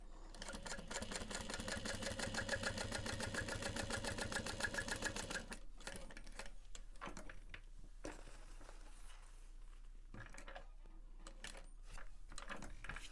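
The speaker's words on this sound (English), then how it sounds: "we're going to sew up to marked line" A sewing machine stitches the Charyn handbag in a steady, rapid, close run of needle strokes, then slows into scattered clicks and softer mechanical taps.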